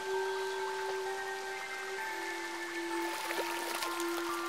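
Water pours over Alice in the video game Alice: Madness Returns, making a continuous soft splashing trickle. Steady sustained game tones run underneath the whole time.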